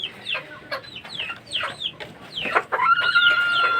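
Chickens cluck in short repeated calls at a small poultry farm, close and fairly clear, with a longer crow-like call near the end.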